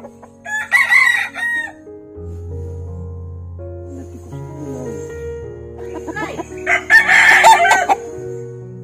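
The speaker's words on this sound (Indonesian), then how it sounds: "Ini ayam Texas nih guys." A Texas breed rooster crows loudly twice, near and clear, with low clucking and soft fowl murmurs in between.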